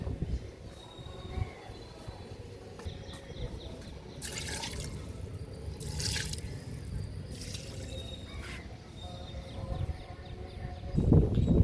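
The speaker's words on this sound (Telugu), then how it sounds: "వాటర్ అన్నిటికీ ఇచ్చేసాను" Potted plants in a home garden in the rainy season are watered from a bucket, with quiet trickling and dripping. A few louder splashes of pouring water break in partway through.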